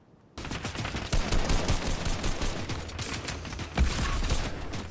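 Shots ring out in a Fortnite Arena match, a sudden burst of gunfire erupting after a moment of quiet and continuing as a busy clatter of shots, loud and close, with one sharper report near the end.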